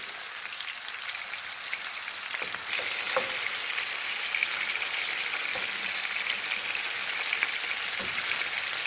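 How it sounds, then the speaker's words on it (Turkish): Meatballs (köfte) sizzle steadily in hot oil in a pan, a dense crackling hiss with occasional sharper pops, fairly close. "Kızarmaya başladı köftelerimiz."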